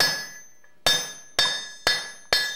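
Hot metal being cut with a chisel held in a hardy on a blacksmith's anvil: four loud, ringing hammer blows land about half a second apart, each with a sharp metallic clang that decays quickly.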